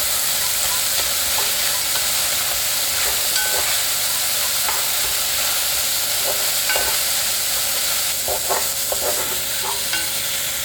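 Jjajang sauce and gochujang being stir-fried over low heat in a pan of scallion oil for jjajang ramyeon, a steady close sizzle with scattered scraping stirs, no talking.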